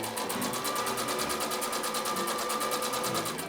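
A sewing machine running steadily at speed, laying gathering stitches on a 1930s-style dress bodice, with a fast, even mechanical whir and needle chatter throughout.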